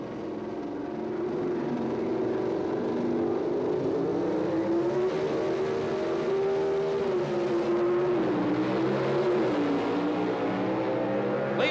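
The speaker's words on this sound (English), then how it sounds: "Side by side, the horsepower of the Ford pays off at the finish line." Drag race cars, a Ford Fairmont against an AMC Hornet, accelerate hard side by side at the 1978 NHRA Summernationals, a loud sustained engine roar rising in pitch as they run down the strip, close and continuous with no break.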